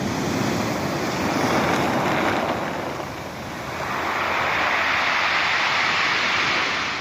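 Winter sea waves wash onto a stony beach at Brighton, a loud continuous roar of surf mixed with wind buffeting the microphone, easing briefly midway before swelling again.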